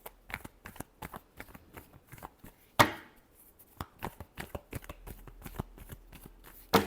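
Tarot cards are shuffled by hand in quick, crisp riffles and taps, a dense run of close, dry card snaps with one sharper riffle midway.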